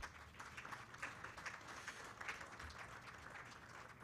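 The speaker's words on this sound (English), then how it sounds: "let's give Honorable Lady Justice a round of applause" Applause from a symposium audience, fairly faint and distant, a steady wash of many hands clapping through the whole stretch with no speech on top.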